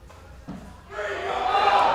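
A home crowd at an elite weightlifting session cheers a lifter, the noise swelling from a low murmur into a sustained roar of voices and shouts, loud and building toward the end.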